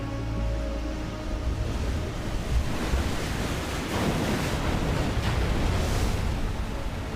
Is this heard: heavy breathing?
no